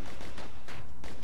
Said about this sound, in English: Got something shooting us from up top